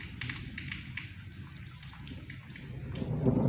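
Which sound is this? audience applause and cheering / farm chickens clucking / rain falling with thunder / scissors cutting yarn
rain falling with thunder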